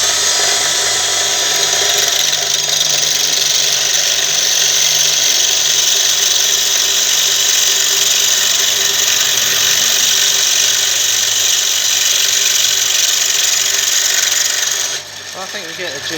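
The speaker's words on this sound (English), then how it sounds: "So let's get my lathe. And go and lathe one up." A metal lathe turns a bolt for a Honda CR250 power valve, a steady high-pitched machining whine with a constant motor hum running loudly and evenly throughout, easing off near the end.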